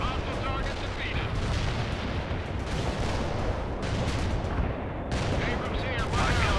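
Continuous rumbling artillery barrage in the war game World in Conflict, dense overlapping blasts and crackling impacts filling the whole stretch at steady, loud intensity with no pause.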